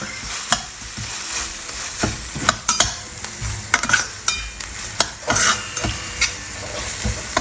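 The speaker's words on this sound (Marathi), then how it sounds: "आता ही दोन तीन मिनटं परतून घ्यायची" Masala mixture of Schezwan chutney, chilli powder, garam masala and coriander being stirred and sautéed in a pan for street-style Jini dosa, with steady frying sizzle and repeated sharp spatula scrapes and clatters close by.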